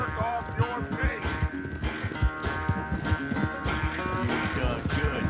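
Horse hooves clip-clop in Red Dead Redemption 2, a steady rhythmic trot close by, mixed with game music and ambient sound while a voice speaks over it.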